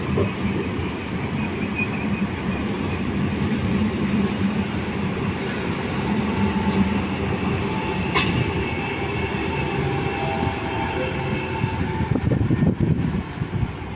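A Trenitalia regional train at Padova railway station, its steady rumbling roll mixed with faint wheel squeal and occasional clicks, continuous and fairly close with no talk.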